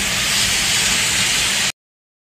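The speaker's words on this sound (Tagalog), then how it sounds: "Grabing lakas ng ulan, oh." Heavy rain pours in a dense, even roar of hissing noise, loud and unbroken, then stops abruptly, during flooding in Valenzuela City.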